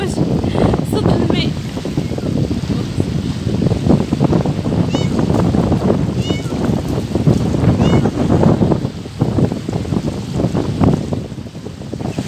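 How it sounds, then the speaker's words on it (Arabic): Sea waves wash and churn continuously along a shore with palm trees and rocks, a dense close rush of water mixed with buffeting wind on the microphone. "نسمعكم صوت الموج، صوت الماء."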